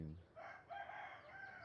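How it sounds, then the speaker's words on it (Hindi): Chickens roam a backyard in Malaysia, with a crowing, clucking fowl call rising near and clear over soft background noise for under two seconds. "बेशक मुर्गियां चारों ओर भटकती हैं।"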